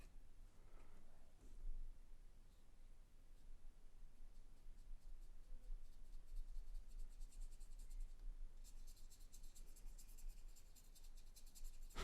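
A metal nib pen scratches steadily across paper, very quiet and close, a soft continuous scraping with faint room hiss and a slightly brighter, crisper stretch of strokes toward the end.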